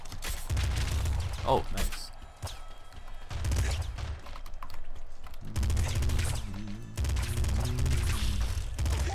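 Shotgun blasts from the video game Nuclear Throne crack in a rapid, loud sequence amid chaotic game effects and impacts, while someone speaks briefly over the action.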